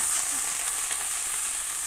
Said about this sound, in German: Mache ich jetzt hier die Zwiebeln und den Knoblauch rein und dann schön goldbraun anbraten lassen.